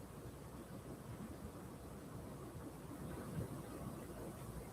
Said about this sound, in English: Damn, it's raining hard as fuck.